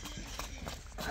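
Hoofsteps of a black foal walking, several soft irregular thuds spaced close together, fairly faint and near, with a little background noise and no talk.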